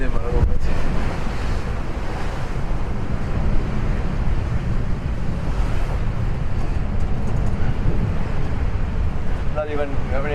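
Ocean swell and strong wind roar continuously around a sailboat beating across open water between Gambia and the Cape Verde Islands, with steady wind noise buffeting the microphone throughout.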